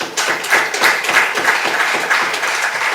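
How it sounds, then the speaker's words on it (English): The Lord Mayor claps at a crowded political gathering, the steady rapid patter of hands blending with other applause, loud and close, with no talking. "I can see the Lord Mayor clapping."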